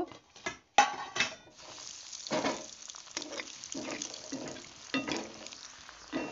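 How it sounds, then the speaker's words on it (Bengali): Cauliflower pakoras fry in hot oil, with irregular sizzling bursts and splashes as pieces are turned and moved, fairly quiet and close, with no talk. "এভাবে আপনারা উল্টে পাল্টে ভালো করে ভেজে নেবেন"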